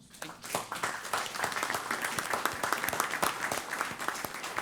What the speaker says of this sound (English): he and Paula deserve a round of applause